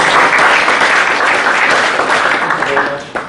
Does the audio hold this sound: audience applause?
yes